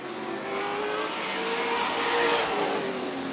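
Vintage race cars lapping an oval track in a Northern Vintage Series race, with a steady engine roar rising and falling as the cars pass through the turns, moderately distant and without talk.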